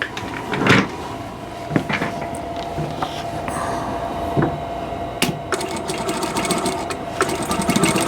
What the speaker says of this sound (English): And now I'm going to sew on the lines.